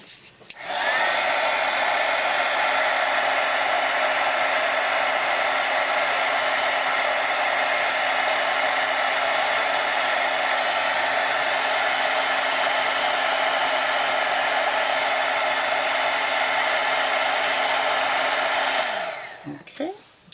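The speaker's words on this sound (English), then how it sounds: "get my heat gun back out" A heat gun blows continuously at close range, a loud steady whooshing hiss with a faint whine that starts abruptly and cuts off near the end.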